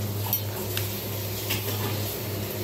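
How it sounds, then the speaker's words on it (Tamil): Rice stirred lightly in a cooking pot for mutton biryani, with soft metallic scrapes and clinks of a ladle against the pot repeating at a gentle, steady pace, faint and close, no talking. "அரிசியை போட்டு லைட்டாக கிண்டிக்கிங்க."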